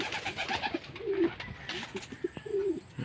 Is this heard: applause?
no